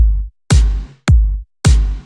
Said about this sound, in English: So we have our kick and our snare.